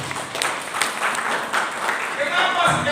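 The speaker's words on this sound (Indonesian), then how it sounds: "Tepuk tangan buat Tuhan yang kasih." A church congregation claps for God, a loud, rippling wash of many hands that swells and pulses in waves, with voices audible beneath it.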